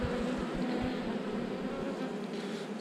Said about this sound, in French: toutes ces abeilles agglutinées dessus là qui tiennent chaud.